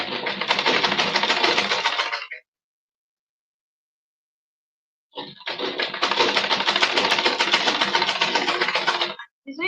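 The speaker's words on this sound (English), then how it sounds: "So I'm going ahead to stitch this down" A sewing machine stitches a bias strip down onto a corset gown, running loud and close in two long steady bursts separated by a pause of a few seconds.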